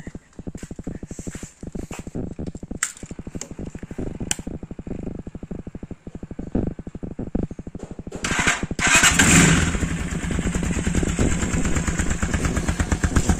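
A Gamma 200 motorcycle with a Yoshimura muffler idles close by with a rapid, steady thumping chug, briefly swelling louder and rougher partway through before settling back.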